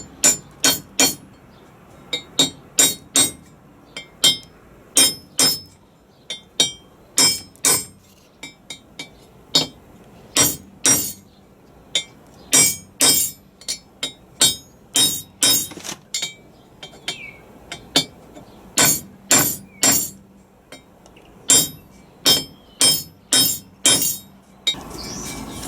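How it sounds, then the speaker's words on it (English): Sharp metallic hammer taps ring out repeatedly, driving a bearing race into a Land Rover Defender TD5 LT230 transfer box, sometimes in quick bursts of three or four, with short pauses between, close and clear. "It's quite hard to get a swing with your hammer on it."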